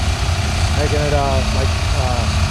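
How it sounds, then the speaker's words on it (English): A small motor hums steadily with a grinding, abrasive whir as a machine spins a tire against a sanding disc, while a person talks over it. "this little machine spins the tire, and then we literally sand them"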